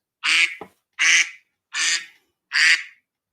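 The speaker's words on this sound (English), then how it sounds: "So when your time is up, creators, you will hear a duck." A duck quack sound effect used as a stream timer alert: four loud, evenly spaced quacks in a row, each short and nasal, alone with no talk around them.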